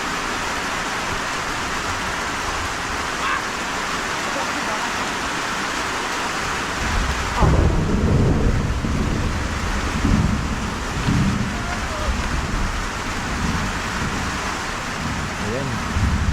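Heavy rain pours steadily with rolling thunder building in partway through, a loud, dense wash of sound outdoors with deeper rumbles taking over in the second half.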